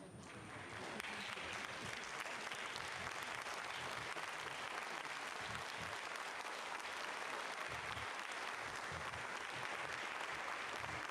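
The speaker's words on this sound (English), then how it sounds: "Getting some clapping here in the Mission Control Centre." Staff in ESA's Mission Control Centre break into sustained applause after a Sentinel-1C launch; the clapping is steady and dense, heard from a distance at low level.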